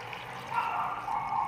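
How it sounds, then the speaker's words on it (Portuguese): Hot water is poured into a cooking pot holding tomatoes and chicken leftovers, a soft, steady splashing stream close by that continues throughout. "E aqui a gente coloca um pouco de água quente."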